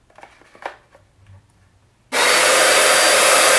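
A powerful handheld hair dryer switches on abruptly after faint rustling and handling noises, then blows with a loud, steady, close-up roar through to the end.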